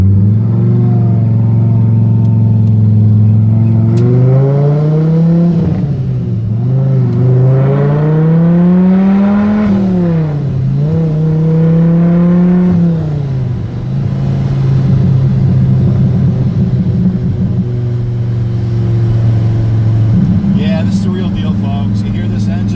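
A 2002 Hennessey Viper, a rare muscle car numbered 5 of 40, revs and accelerates loudly from inside the cabin, its engine note rising and falling through repeated pulls before settling into a steady drone.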